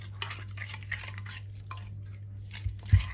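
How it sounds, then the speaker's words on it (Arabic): A utensil stirs and scrapes through a lemon chicken mixture in a bowl, soft scraping with a few light clinks, close and alone over a low background hum. "هسه حبايبي راح نخلط هاي الخلطة اللي سويناها"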